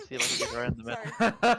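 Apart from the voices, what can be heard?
sneeze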